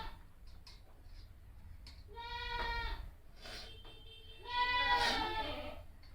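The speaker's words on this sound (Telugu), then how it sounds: "మేకలు బాగా మొత్తుకుంటున్నాయి." Goats bleat nearby in two drawn-out, wavering calls separated by quieter moments, over a low background hum with faint ticking.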